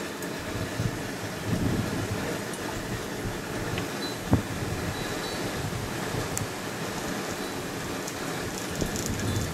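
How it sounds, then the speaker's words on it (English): Strong wind blowing outdoors in central Texas during a Thanksgiving turkey and pig cook, a steady, loud rushing roar with a few faint knocks and no talking. "It's real windy here in central Texas today."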